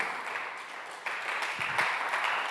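A church congregation at a Tzeltal Sunday communion service claps hands in a steady, moderately loud patter, a room full of palms beating together with no voices over it.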